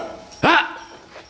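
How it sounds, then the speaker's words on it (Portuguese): One sharp, close dog bark bursts out loud and brief against a quiet background, with a faint trailing whine after it. "Isso é só latido aqui"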